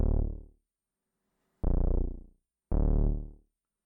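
Three sustained, buzzy Moog synthesizer notes from a live channel, each starting with a hard attack and rich harmonics, then fading over about a second, with short gaps of silence in between.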